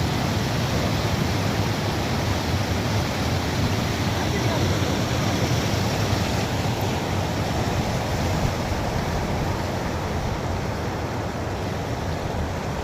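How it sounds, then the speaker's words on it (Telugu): Heavy, continuous roar of water pouring over a village weir swollen after a night of heavy rain, a dense broadband rush close to the microphone with no breaks. "మా ఊరి అలుగు రాత్రి కురిసిన భారీ వర్షాలకు మళ్ళా పారుతుంది."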